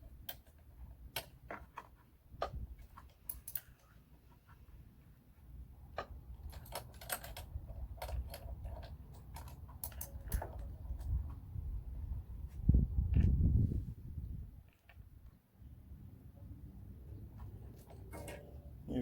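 An Allen key tightens a billet aluminum wheel cap on a Can-Am Ryker, producing scattered small metallic ticks and clicks up close over a quiet background, with a brief louder rustle midway.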